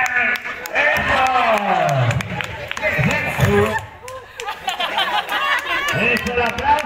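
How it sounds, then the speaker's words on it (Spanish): A crowd at a costumed dinosaur character event claps in scattered bursts while excited voices shout and chatter over the applause. "¡Eso, el aplauso!"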